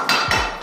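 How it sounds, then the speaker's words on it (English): Hammer gently tapping a BMX bike part laid on pieces of wood, two quick close metallic knocks with brief ringing. "take a hammer and just kind of beat it down gently"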